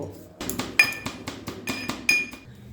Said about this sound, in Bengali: হামানদিস্তার মধ্যে এটা দিয়ে দিয়েছি এবার এটাকে প্রথমেই গুঁড়ো করে নেব